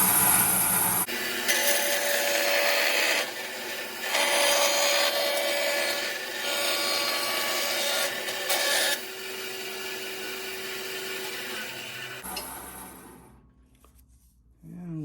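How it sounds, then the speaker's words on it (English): A saw blade rips thin strips from wood, a harsh, loud whining rasp in several sustained passes separated by brief breaks, ending as the cut stops and the noise drops to near silence. "I have my blade set to about 1 millimeter thickness, and then I'm just going to rip out a few pieces"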